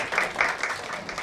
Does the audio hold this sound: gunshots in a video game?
no